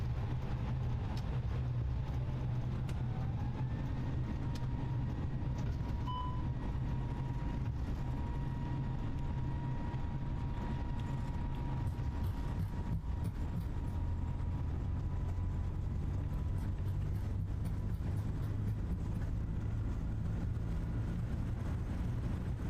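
Jet engines on a Challenger aircraft roar steadily throughout the takeoff roll, a broad, constant rumble with a faint rising whine heard from inside the aircraft, with no talk.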